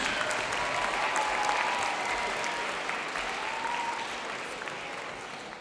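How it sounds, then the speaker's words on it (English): Sustained audience applause for student performers at a school international week opening ceremony, a broad wash of clapping that fades slightly toward the end. "how about one more round of applause for all of our performers?"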